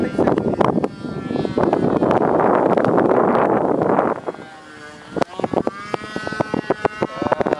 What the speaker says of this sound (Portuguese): O problema, sabe o que é? O vento